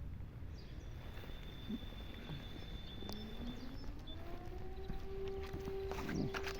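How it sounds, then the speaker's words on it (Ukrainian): A distant air raid siren wails in a long, slowly rising tone, faint beneath steady outdoor background noise and scattered bird calls in a riverside park in Svitlovodsk, Ukraine. "Якщо чутне, то лунає сирена."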